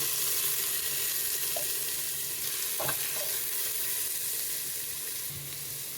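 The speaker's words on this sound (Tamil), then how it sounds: "4 ஏலக்காய் எண்ணெயில் வதங்கட்டும். எண்ணெயில் பொரிஞ்ச உடனே கட் பண்ணி வச்சுருக்கிற 2 வெங்காயம்" Cardamom pods with cinnamon frying in oil in a single pot while making chicken biryani, giving a steady soft sizzle throughout with a couple of faint clicks, no voices.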